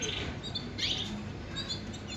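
A yellow Shirazi canary sings in bright, rapid chirps and trills over a steady hum of background noise, with bursts of song coming and going.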